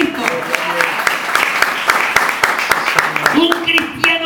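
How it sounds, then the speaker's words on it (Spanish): A church congregation claps loudly during a worship service, a crowd of sharp, irregular hand claps with voices and shouting mixed in and a sustained tone near the end. "Aplaudirle fuerte al Señor"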